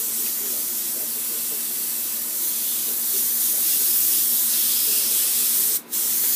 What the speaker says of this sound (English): I'm going to just give it a little back pressure with the air to mix it